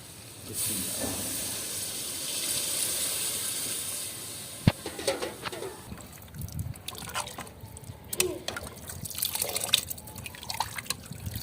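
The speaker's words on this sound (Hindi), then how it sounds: "अब हम इसमें पानी डालेंगे।" Water poured into a cooking pot for Maggi noodles makes a steady hiss and trickle at first, then a sharp clank and irregular splashes and drips as it settles.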